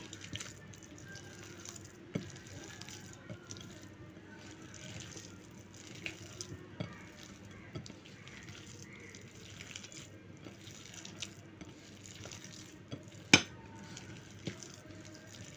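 Chicken and potato are worked together with spices by hand, making quiet, wet squelching and squishing with scattered light clicks against the bowl and one sharper knock near the end.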